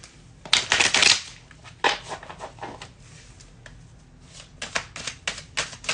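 Cards are shuffled in several quick riffling bursts, crisp and close, with short pauses between them.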